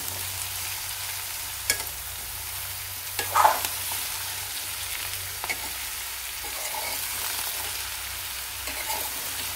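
Bottle gourd pieces stirred in a frying pan, a soft steady sizzle with a few scraping clicks of the spoon against the pan, close and alone without talk.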